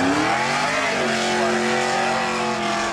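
Late model stock cars, including a 2000 Chevy Camaro, race at Seekonk Speedway with a loud, steady engine roar whose pitch bends as they power through a turn; the sound fills the scene without pause.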